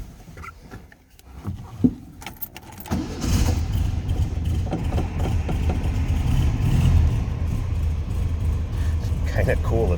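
A 1980 Volkswagen Beetle engine cranks with a few rough clicks and coughs, then catches and settles into a loud, steady, close idle.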